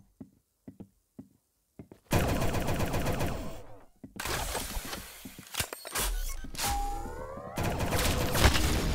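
Gunfire in the Roblox-style shooter Arsenal during a one-on-one match: a few isolated shots, then dense stretches of rapid firing and impacts, loud and close, with a brief tonal game sound midway and no talking.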